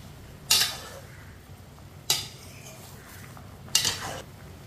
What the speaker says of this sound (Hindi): इसे अच्छी तरह मिक्स कर लेना है।